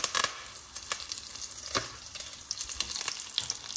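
Mustard seeds, cumin seeds and curry leaves sizzle and crackle in hot oil in a pan for a cauliflower stir-fry, with sharp popping bursts over a continuous frying hiss, close and clear.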